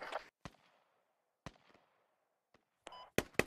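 Gunfire in the military shooter Squad cracks out in sharp, separate shots with echoing tails, a few isolated reports followed by a quick cluster of louder, close shots at the end.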